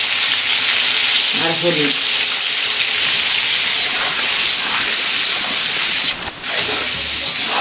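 Potatoes fry with salt and turmeric in a pan for chicken biryani, a steady loud sizzling hiss running throughout, with a brief spoken phrase early on.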